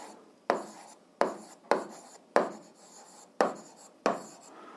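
Pen or chalk writing a math formula, six distinct sharp taps each followed by a short scratchy stroke, close and steady with pauses between, no voice.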